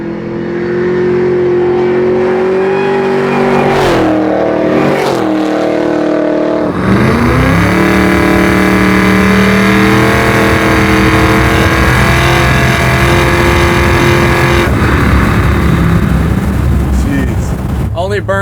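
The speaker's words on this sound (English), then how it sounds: "You're definitely blowing the tires off." A 750 whp supercharged Chevy Blazer accelerating hard and spinning its tires, loud close engine roar rising and falling through several surges with a blown supercharger whine, people talking faintly underneath.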